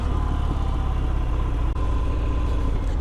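A Harley-Davidson Fat Bob motorcycle engine rumbles steadily at close range as the bike rolls up to a stop, a continuous low throbbing idle with a brief dip partway through.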